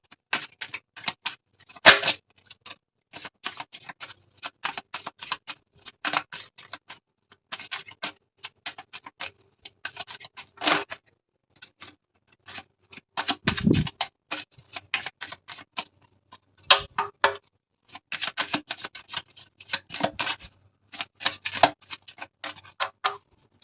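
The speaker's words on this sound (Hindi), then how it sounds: "मैं आपके लिए कार्ड्स निकाल रही थी" Tarot cards being shuffled and drawn for a reading, giving dense bursts of crisp papery flicks and taps in irregular clusters, close and fairly quiet, with short pauses between bursts and no talking.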